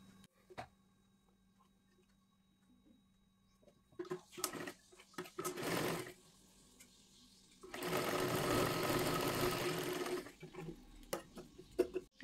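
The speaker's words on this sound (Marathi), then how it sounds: "आता इथे तुम्ही शिलाई मारून घ्या." Sewing machine stitching a three-piece princess blouse in a 36 size: short whirring runs, then a longer steady burst near the end, with scattered clicks and handling noises between.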